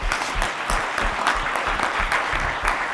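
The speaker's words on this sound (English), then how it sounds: "Can we get a round of applause for everybody that's donated?" An audience applauds steadily for donors at an awards event, a dense, even wash of clapping lasting the full few seconds with no speech.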